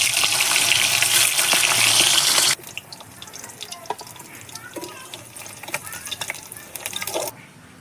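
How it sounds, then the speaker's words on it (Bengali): Tilapia fish pieces fry one by one in hot oil in a wok over a wood-fired clay stove, starting with a loud, dense hiss that drops to a softer crackling sizzle with scattered pops, with voices faintly in the background. "তেল গরম হয়ে গেছে, এবার আমি এক এক করে মাছগুলোকে ভেজে নেব।"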